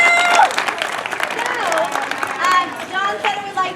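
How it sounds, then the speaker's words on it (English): An outdoor audience at a Sutter's Fort gathering claps in a steady round of applause. The clapping is moderately loud and sits beneath a speaker's voice. "Round of applause for all of you"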